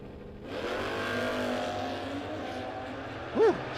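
A drag racing motorcycle at a no-box 660 shootout makes its run: a sustained high engine whine that rises and fades into the distance, fairly loud, with a brief sharper burst near the end.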